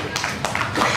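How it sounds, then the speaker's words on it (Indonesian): Brief applause from the audience at a university student-executive candidates' public debate, a short dense patter of hands that sits at a steady level for about a second. "Tepuk tangan untuk kedua calon kita."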